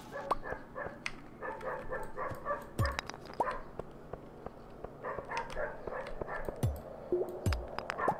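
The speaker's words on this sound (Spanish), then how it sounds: "Que perro del vecino es un amor." The neighbor's dog barks, yips and whimpers in scattered bursts across a busy background, moderately close, with faint voices underneath.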